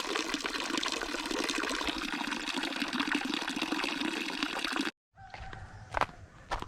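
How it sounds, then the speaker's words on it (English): Water pouring from a pipe out of a plunge pool into a farm irrigation canal at an off-grid homestead, a loud continuous rushing flow that cuts off abruptly, followed by quieter splashes and trickles. "it goes down from this pipe out of the plunge pool under the ground there and out into that canal"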